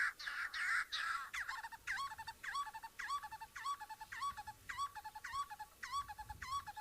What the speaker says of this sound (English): I'm going to let you listen to his call. This is a duet.